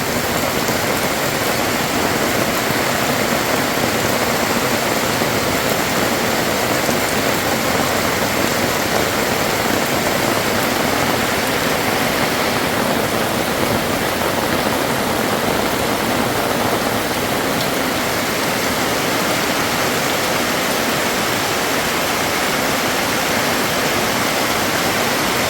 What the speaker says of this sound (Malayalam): മഴവെള്ളം നോക്ക്.